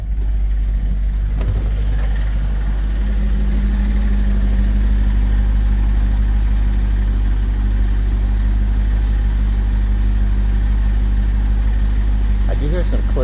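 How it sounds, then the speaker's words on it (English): A 1999 Chevrolet Corvette engine idling steadily right after a cold start, a constant low droning rumble that runs unbroken throughout with a faint background hum. "Got a cold start here."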